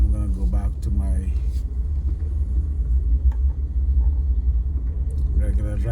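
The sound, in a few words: four-wheel-drive car driving on snowy icy road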